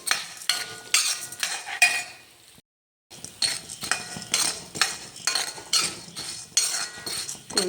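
Chana dal roasting in a pan, stirred with a metal spoon that scrapes and clinks against the pan in quick repeated strokes, close and clear, with a short pause partway through.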